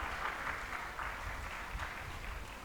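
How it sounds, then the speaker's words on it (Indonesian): Graduation ceremony audience at SMTI Banda Aceh applauding, a soft, distant wash of clapping heard through a hall, steady and fairly faint. "Tepuk tangan untuk kalian."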